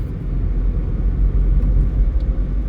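A 2016 Chevrolet Spark LS with a manual transmission drives along a freshly paved road, its low engine and tyre rumble loud and steady from inside the cabin.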